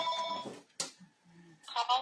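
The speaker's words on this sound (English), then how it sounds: "The phone is not supposed to ring when I'm doing a live." A telephone rings during a craft livestream, with two short electronic trills at the start and end of the stretch and a voice talking between them.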